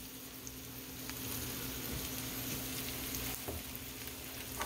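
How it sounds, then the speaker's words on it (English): Garlic sautéing in a pan for Filipino-style shrimp chop suey, a steady dense sizzle with faint crackles and small clinks, no voices. "Now the garlic is already sauteed."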